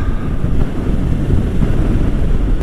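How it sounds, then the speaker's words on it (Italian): Strong wind buffets the microphone on a rural road beside wind farms in Italy, a loud continuous roar and rumble with no pause. "C'è un vento qua."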